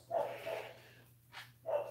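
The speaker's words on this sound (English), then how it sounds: "He's barking like he's crazy" A dog named Yuli gives three short, excited barks spaced over a couple of seconds, fairly close but modest in level, over a faint steady hum.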